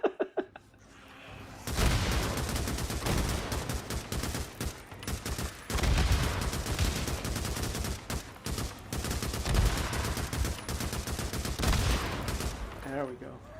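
Continuous automatic gunfire from a weapon in the zombie-survival video game Days Gone, loud sustained bursts with booming impacts filling nearly the whole stretch after a brief quieter start.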